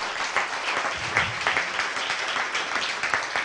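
A church congregation bursts into sustained applause during a Spanish-language sermon, a dense, steady wash of many hands clapping together, filling the room without any voice above it.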